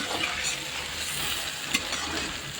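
Food frying in a pan until reddish-brown, a continuous close sizzle and crackle with a faint stirring tap, steady and moderately loud, with no talk.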